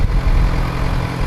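A stock-exhaust 2013 Suzuki GSX-R 600 sport bike idles close by, a steady low rumble holding even and continuous with no talk over it.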